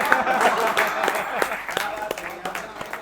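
Audience members clap at a Holi poetry gathering, a scattered round of handclaps that fades into sparser individual claps, with a voice talking over part of it.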